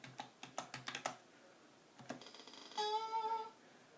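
Someone types a zip code on a computer keyboard, a close run of quick, distinct key clicks followed by a few later taps, with a short electronic beeping tone at the end.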